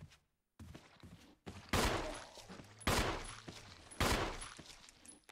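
Gunfire in the GameCube Resident Evil, played as Chris: three loud, sharp shots spaced about a second apart, each with a decaying tail, with quieter game sounds between them.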